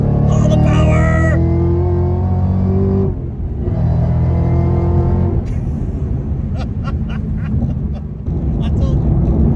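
A 6th-gen Camaro ZL1 1LE with a Corsa Extreme Plus catback exhaust accelerates hard, its loud, rising engine note climbing through gears with brief shift breaks, followed by rumbling and crackle, with voices talking over it.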